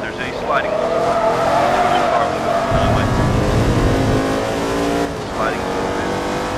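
In Forza Motorsport 2, a race car slides through a corner with loud, sustained tire squeal over a roaring engine that rises and falls, while someone talks over the action.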